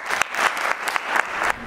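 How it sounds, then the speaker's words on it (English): An audience at a keynote speech at the Columbia Africa Conference applauds, a brief, dense burst of hand claps heard close and without talk. "Can you get a hand clap for that?"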